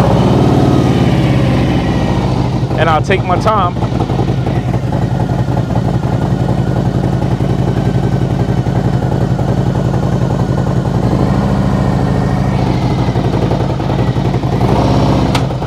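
Motorcycle engine starting and settling into a loud, steady, close rumbling idle that continues throughout, with a brief higher-pitched burst early on and someone speaking briefly over the engine.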